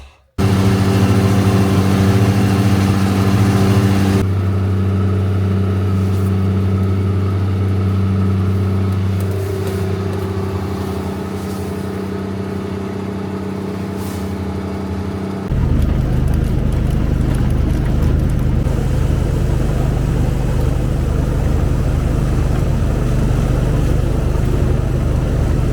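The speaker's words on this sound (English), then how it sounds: "I'm in the tractor firing it up." A grounds maintenance tractor's engine fires up and runs close by with a steady, loud diesel drone. Its pitch shifts partway through, and a heavier, rougher rumble follows near the end.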